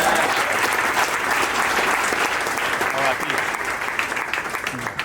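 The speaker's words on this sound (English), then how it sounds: "let's give a round of applause" A round of applause rises from an audience at a corporate award ceremony, dense and steady clapping that carries loudly through the whole stretch, with faint voices mixed in.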